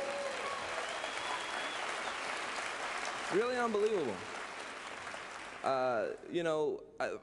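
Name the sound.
audience applauding themselves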